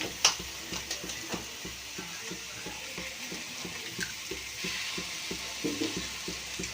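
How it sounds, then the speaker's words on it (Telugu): Eggs are cracked into a pan of frying onions for a dish of tamarind and raw prawns with egg. A steady low sizzle runs throughout, broken by faint taps and light clicks. "ఇప్పుడు గుడ్డు కొట్టేసుకుందాం"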